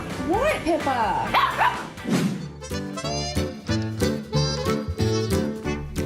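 A jealous dog barking and yipping in a quick burst, then whimpering, close and loud, with people talking and music over it.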